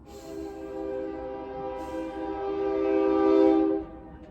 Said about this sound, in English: Forgive me for the noise of the train, the noise of the highway.